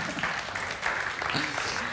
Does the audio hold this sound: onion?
no